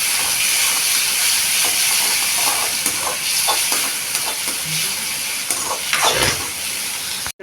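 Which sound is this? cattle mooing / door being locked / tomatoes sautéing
tomatoes sautéing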